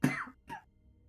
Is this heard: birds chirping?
no